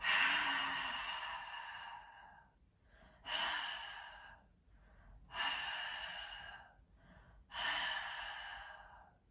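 Slow, audible exhales pushed through the back of the throat during a yoga breathing exercise, four long breathy rasps spaced a couple of seconds apart, each starting strong and tapering off, close and quiet.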